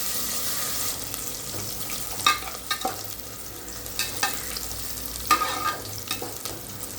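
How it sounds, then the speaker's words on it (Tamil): Onions sautéing in a pan for biryani, a steady close sizzle with intermittent scrapes and clacks of a spoon stirring them, no voices. "வெங்காயம் நல்லா வதங்கணும் நல்லா வதங்கணும்"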